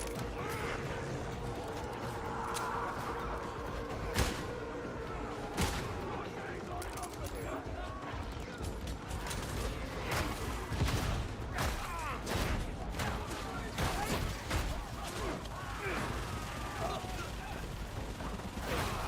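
Dense, overlapping gunfire from many gunners in a video game, a steady barrage of shots and booms filling the whole stretch, with a player's voice talking over it.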